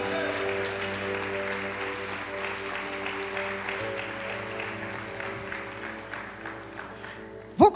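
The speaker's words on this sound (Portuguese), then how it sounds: "Dê um aplauso ao Senhor" Congregation at a Sunday church service applauding steadily for several seconds over a sustained organ or keyboard chord, ending with a sudden loud bump.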